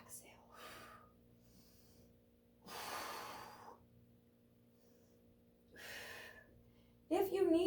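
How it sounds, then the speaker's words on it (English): Deep, audible breaths during a Pilates core and shoulder workout come in slow cycles, three long breathy inhale-exhale swells separated by quiet pauses, ending in a brief loud burst. "Inhale, exhale."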